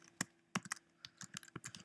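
Quiet, close typing on a computer keyboard while writing OpenGL code, with irregular clusters of soft clicking keystrokes and no voice.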